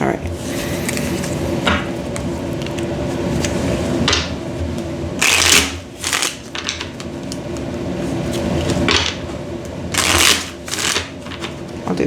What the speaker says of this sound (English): I'll do 3 shuffles.